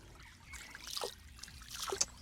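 Water from a forest stream fed by rainwater off the hills trickles and splashes faintly in a few soft bursts.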